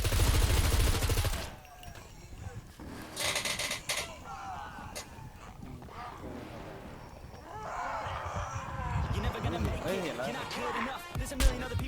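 Gunshots in the SCUM survival game ring out as scattered sharp cracks and short bursts among game noise, with voices talking excitedly throughout.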